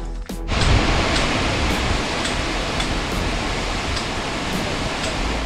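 Rushing water at Ashoka waterfall, a loud, steady broadband roar that fills the whole stretch after a brief knock at the start.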